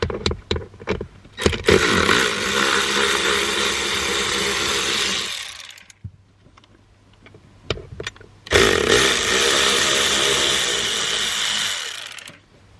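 A power tool loosens T30 bolts on a BMW in two sustained, loud, close whirring runs, with clatter at the start and a quieter gap between them.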